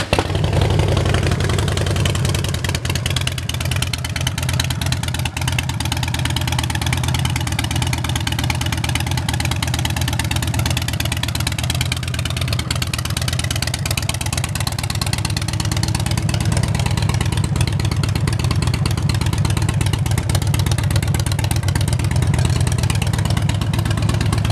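A 2007 Harley-Davidson Dyna Super Glide motorcycle with about 19,700 miles sits idling, its V-twin engine running loud, close and steady throughout with a deep continuous rumble and no speech over it.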